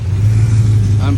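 A car engine idles with a steady low hum throughout, loud and close, with a faint rising tone near the end as a little gas is given.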